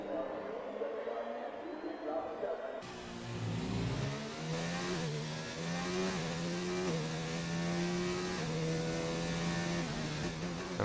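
Revving McLaren race car engine from an Xbox racing game on the Austria circuit, a loud steady whine climbing through the gears with shifting pitch, speech likely running beneath it.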